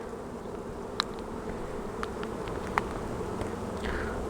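A continuous low hum of many honeybees buzzing around hive frames, with a few sharp clicks and ticks over the steady drone.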